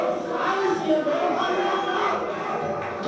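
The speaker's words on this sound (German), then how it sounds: "Das Publikum äußert seinen klaren Unmut über diese Störung." An audience in a hall loudly voices displeasure at a disruption while disruptors are led out, a dense, continuous roar of many shouting voices close by.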